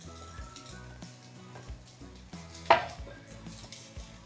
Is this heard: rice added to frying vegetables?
yes